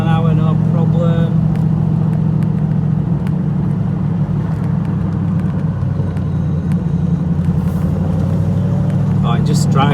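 A TVR Chimaera sports car drives along a road, its engine a steady, loud, low rumble heard from inside the car for the whole stretch, with a brief voice near the end.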